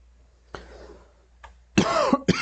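A person coughs indoors: a faint short cough followed by a louder, harsher pair of close coughs, with quiet between them.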